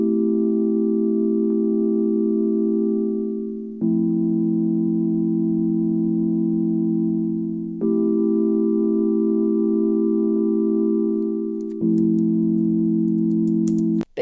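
Two sustained chords alternate on an Arturia Pure Lofi preset, each held about four seconds with a smooth, warm, organ-like tone; steady and loud, with a faint click at the end and no voices.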